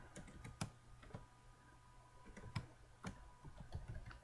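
Computer keyboard typing while text is entered into a presentation slide: a close, irregular run of light key clicks with brief pauses, and several sharper strokes standing out.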